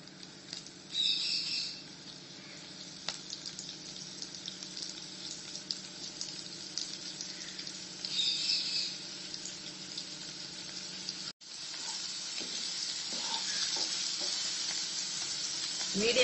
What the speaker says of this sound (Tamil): நெய் சூடானதுக்கு அப்புறம் இந்த பரட்டி வச்சிருக்க பன்னீரை போட்டு லேசா வறுத்து எடுத்துக்கலாம்.